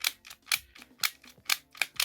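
Clicking ratchet arm mechanism of a Denys Fisher Bionic Man action figure, a quick run of sharp plastic clicks and ticks in uneven bursts, close and fairly quiet, with no talking.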